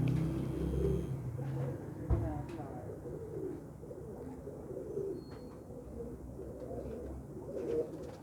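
Kept pigeons coo softly in low, rolling phrases over a steady background rumble, with a voice murmuring faintly nearby.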